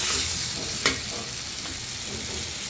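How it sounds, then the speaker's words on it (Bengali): Potatoes sautéing in a pan for an egg and potato curry, a steady broadband sizzle with a brief stirring scrape partway through, close and fairly loud with no talk. "আমি এখন তরকারিটা কষিয়ে নেব এই যে আমি আলুগুলো কষিয়ে নিচ্ছি"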